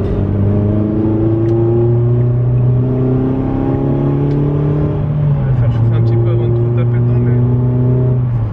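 A rebuilt 4.2-litre V8, still cold and warming up, runs loud and steady with a deep droning tone that shifts pitch about midway as the revs change.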